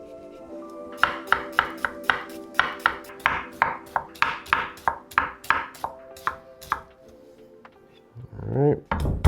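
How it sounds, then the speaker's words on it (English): A knife mincing vegetables on a cutting board for a wild rice pilaf, a steady run of sharp, evenly spaced chops close up, ending with a brief clatter. "You can just mince these up."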